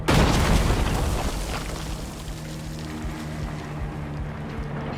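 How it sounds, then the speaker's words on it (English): Tank mortar shells bursting in the Reanimal video game: a heavy, close boom that opens loud and rolls into a long, low rumbling decay, alone without talk. "Try not to get hit by the mortars that the tank is shooting at you."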